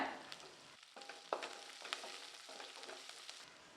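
Chopped onion and green chilies sautéing in a pan, with a soft steady sizzle broken by several sharp scraping stirs of a spoon, fairly close and moderately quiet, no voices.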